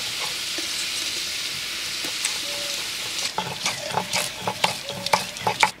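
Prawns fry in oil left over from frying potatoes for a jackfruit and prawn dish, giving a close, continuous sizzle. Partway through, irregular stirring scrapes and clatters join in.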